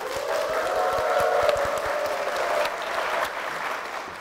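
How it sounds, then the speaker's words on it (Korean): A church congregation applauds together in a steady, full round of clapping that swells slightly and then eases off, with no voices over it. "박수로 모시겠습니다"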